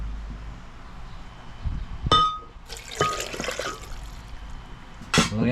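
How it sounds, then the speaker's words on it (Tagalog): Water is poured onto halved avocado in a Chinese-made blender while making avocado ice cream. A few short splashing pours stand out over a low kitchen hum, with a sharp clink near the start and another near the end. "Lagyan natin ng tubig."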